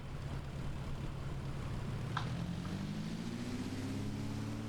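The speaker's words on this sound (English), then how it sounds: "Give you guys a chance to hear the engine from the outside" Steady droning engine run-up of a Piper PA-28R Arrow III piston aircraft in Microsoft Flight Simulator, heard from outside, with a low hum that rises in pitch partway through, as if revving up, against constant broadband noise.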